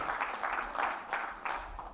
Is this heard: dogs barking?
no